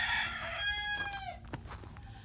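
A rooster crows once, close by, while other chickens cluck softly around it in a backyard flock enjoying melting snow.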